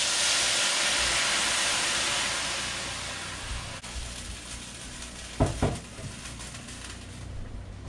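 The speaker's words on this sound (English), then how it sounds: "So we're going to go ahead and deglaze with a half a cup of Madeira." A pan deglazed with half a cup of Madeira for Thanksgiving gravy hisses and sizzles loudly at first, the steamy fizz easing over several seconds, with a couple of brief clatters near the end.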